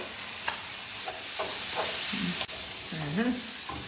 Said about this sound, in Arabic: الآن بعد ما ورينا الفلفل تقلى شوية، الآن نضيفوا اللحم المفروم